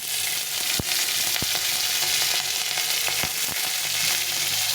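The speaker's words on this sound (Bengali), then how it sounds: "এখানে দিয়ে দিলাম একটা তেজপাতা আর এখানে রেখেছি কিছু কাঁচা লঙ্কা একদম ফাটিয়ে রেখেছি মানে দু ফাটা করে রেখেছি আমি কাঁচা লঙ্কা বেটে দিইনি এটা তেলের মধ্যে দিয়েছি" Slit green chillies and a bay leaf fry in hot oil for shukto, giving a steady, close sizzle with a few sharp pops and crackles breaking through.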